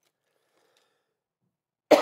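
A single sharp cough at close range ends an otherwise near-silent stretch, loud and abrupt.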